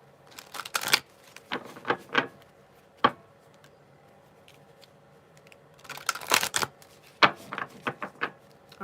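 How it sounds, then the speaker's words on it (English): Large tarot cards are shuffled by hand in quick clusters of crisp riffling clicks and flutters, with brief pauses and a single sharp tap between bursts, close and fairly quiet in a still room. "Let's shuffle them this way."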